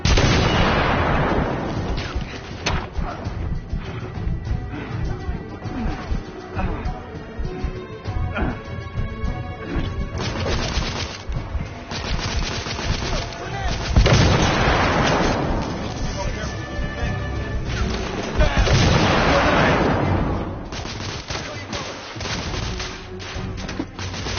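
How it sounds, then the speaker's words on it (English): A video-game battle against rebels: loud, dense gunfire and a grenade blast rumble continuously, with heavier explosive surges, all under shouting voices. "Fire in the hole! Grenade!"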